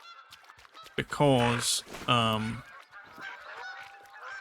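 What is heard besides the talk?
Canada geese honking in video game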